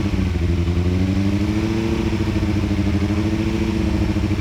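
A Benelli 600i motorcycle engine holds a steady 3000 RPM, giving a continuous close, loud idle-like drone with a dense rumbling pulse and no gaps, alone without talk.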